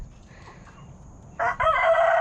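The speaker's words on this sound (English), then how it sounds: "Look at all those chickens." A flock of more than thirty backyard chickens with a Copper Maran rooster, faint clucking at first, then a loud close crow breaking in near the end.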